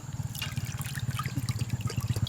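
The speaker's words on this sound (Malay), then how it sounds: "Selepas 15 minit, ini rendaman air asam jawa. Kita angkat, toskan." Tamarind soaking water drains off fish in a kitchen with a rhythmic, gurgling trickle of liquid, pulsing steadily and close by with no talking.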